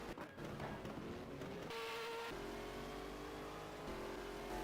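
A race car engine with a B8 motor runs in a Sebring racing video game, revving loud and steady with shifting pitch and gear changes throughout, with no voices.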